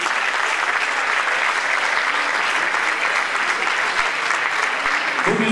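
Applause at a children's music school stage performance of Hansel and Gretel, a loud, dense and continuous wash of clapping from a full audience, sustained evenly throughout.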